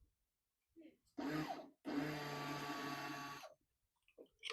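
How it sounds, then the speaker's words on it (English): Fuel pump on a Dodge Durango that has sat for ten years, running in two close bursts of steady whirring buzz: a short run, then a longer one of nearly two seconds, with quiet gaps around them. "Pump sounds like it works."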